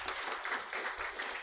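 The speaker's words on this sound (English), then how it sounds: "Can we have a round of applause for Ms." An audience at a talk on preventing violence against migrant women applauds, a brief, steady patter of clapping lasting just over a second.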